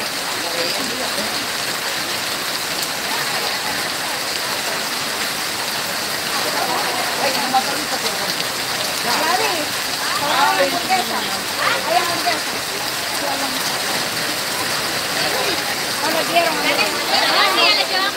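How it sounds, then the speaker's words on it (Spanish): Steady heavy rain hisses throughout in Guadalupe, Guatemala, while people talk intermittently over the downpour. "Espérate, viejo, que se quite un poquito la lluvia."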